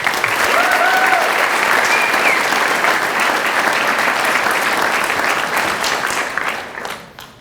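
A crowd applauds an award recipient at a ceremony, a loud, dense and steady clapping that holds for several seconds before tapering off at the end.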